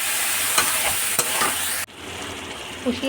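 Cut jackfruit seeds are stirred and sautéed in a pan with a splash of water, giving a loud, dense sizzle with scraping strokes that cuts off abruptly partway through, leaving a quieter simmer.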